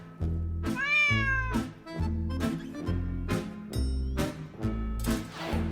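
A cat meows repeatedly and clearly, close by, with several drawn-out cries spaced about a second apart over a steady pulsing low background.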